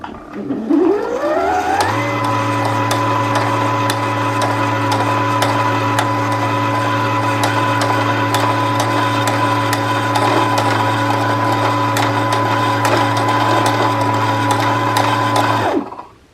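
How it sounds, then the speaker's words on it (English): A home sewing machine winding a bobbin spins up with a rising whir, then holds a loud, steady mechanical hum with a faint regular ticking before cutting off at the end. "continue winding your bobbin to the desired amount or wind it until it stops turning"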